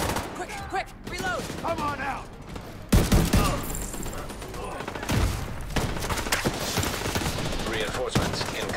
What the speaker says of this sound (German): jetzt schießt die ganze Zeit dieses scheiß Ding wieder auf mich